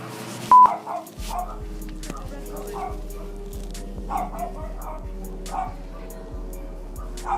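Dogs barking behind a door, a rapid string of yips and barks with regular knocking thuds, heard under a little talk.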